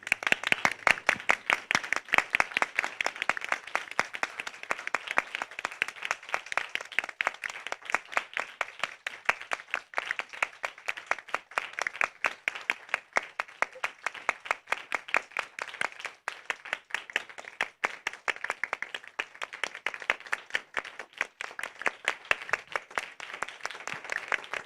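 A hall audience stands and applauds as judges return at a formal competition, a dense, sustained round of clapping from many hands that carries on steadily for over twenty seconds at an even level.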